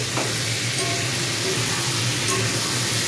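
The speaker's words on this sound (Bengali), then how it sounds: "জাস্ট আমি খালি নাড়াচাড়া করব" Ridge gourd stirred in a frying pan gives a steady close sizzle and hiss with faint scraping, continuous and fairly loud.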